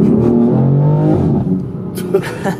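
A car with a throttle pedal tuned through an app, its engine humming and revving as it pulls away under light throttle, loud and close at first, then easing off while a voice talks over it.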